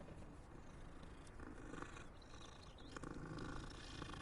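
A cat purring in the video game Hogwarts Legacy, a soft, close, rumbling purr that runs continuously and evenly with no voices over it.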